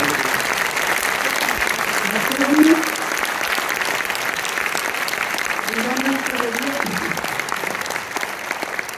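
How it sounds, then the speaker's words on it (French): A packed cinema audience at a film premiere in Orléans applauds strongly, a continuous broad roar of clapping lasting several seconds with voices mixed in and slight swells. "On les applaudit encore très fort."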